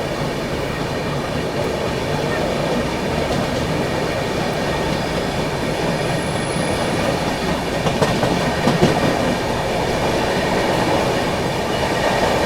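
A Gatiman Express train on the Delhi–Jhansi route runs at high speed, a loud steady roar with continuous clickety-clack of wheels on rails and a brief surge of rattling, no talking.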